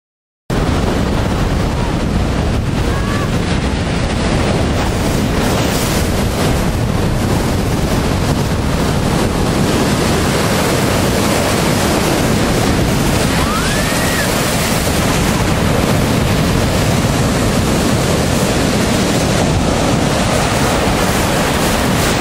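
Rough sea with breaking waves at Mol beach, a continuous loud roar of surf and churning water close by with wind buffeting the microphone throughout.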